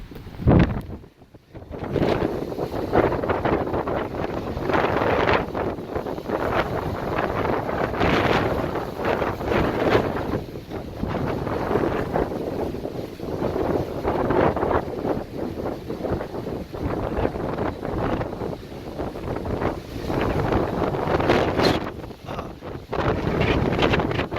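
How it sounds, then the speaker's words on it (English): Strong wind whips across Dauphin Island after a cold front, a loud, continuous roar with gusting surges and microphone buffeting for the whole stretch, no voices. "check out this wind. It is absolutely ripping after a cold front moved through here last night"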